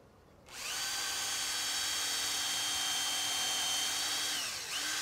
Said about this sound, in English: So we position it on there, just ready to put the drill through.